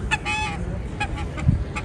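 A duck calls beside a small river near Christchurch, New Zealand, giving several short honking quacks in quick succession, fairly close, over outdoor background noise.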